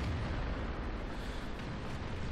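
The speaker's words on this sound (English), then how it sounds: "Got hit by that artillery." An artillery shell hits a Type 4 Chi To tank in World of Tanks, bringing a deep, sustained rumbling boom that stays loud and heavy throughout with a thick low-end roar.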